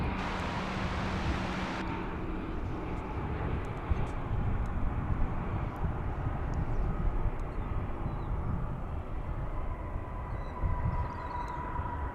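A jet airliner arriving from Maui rolls along a runway at DFW International Airport, a steady broad roar that holds through the clip after a louder, brighter wind or engine rush in the first two seconds.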